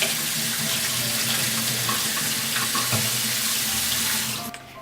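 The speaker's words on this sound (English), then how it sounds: "So we'll turn on the cold water, rinse them really well." Cold water runs steadily from a kitchen tap into a sink as shrimp are rinsed, a loud continuous splashing rush that fades and stops at the end, with no voices.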